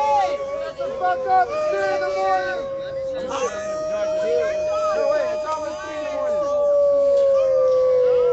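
Several people howl at the full moon at a late-night street gathering, long overlapping wavering howls sustained throughout, fairly close and loud with crowd babble beneath; human voices imitate wolf howls.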